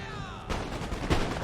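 A musket volley in Empire: Total War, two dense crackling bursts of massed shots, the second a touch louder, over a continuous battlefield din heard from a middle distance.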